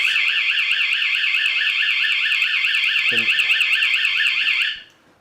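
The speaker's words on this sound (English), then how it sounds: "he pulls the fire alarm to create confusion" A loud electronic school fire alarm wails in a rapid warbling pattern during a law enforcement training exercise, steady and piercing, then cuts off abruptly near the end.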